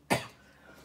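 A single short, sharp cough bursts out close by, followed by a faint trailing rasp in a quiet room.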